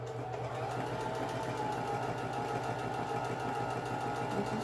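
A Singer M3220 sewing machine stitches fabric with a steady, close, rapid mechanical whir and faint rhythmic knocking that runs unbroken for the whole stretch.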